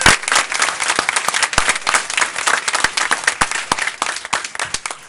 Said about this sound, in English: Okay, one more round of applause.